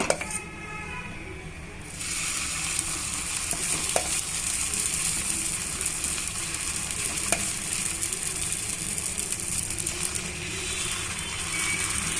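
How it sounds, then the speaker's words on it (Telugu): Onion dosa batter cooking on a hot pan, a strong steady sizzle that swells after a brief quieter start and carries on evenly with a few faint clicks. "ఇప్పుడు మనం ఇంకొక దోశ వేసుకుందామండి"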